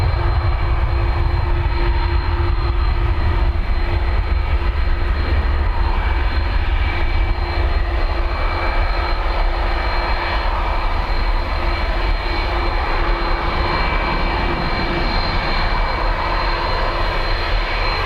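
Boeing jet engines roar steadily on Dublin Airport runway 10 right, a loud, continuous low rumble with a faint high whine held throughout.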